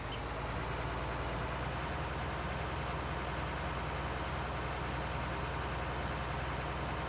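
A tractor engine idles steadily in Farming Simulator 19, a low, continuous drone with a constant hum that stays even and unbroken throughout, with no other sounds on top.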